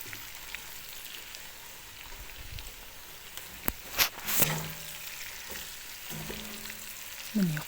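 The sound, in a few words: tripe frying in a pan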